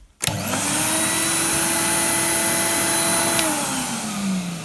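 A 1994 Numatic Henry HVR200 canister vacuum cleaner starts up and runs steadily with a loud drone and a thin high-pitched whine, its pitch dipping slightly toward the end.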